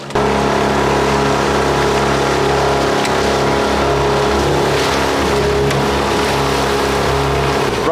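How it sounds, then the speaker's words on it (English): An outboard motor drives a trimaran along at speed, a loud, steady, droning engine hum with water rushing past, constant throughout, and one brief spoken word near the start. "The outboard's doing its job"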